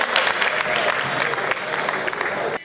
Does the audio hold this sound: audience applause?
yes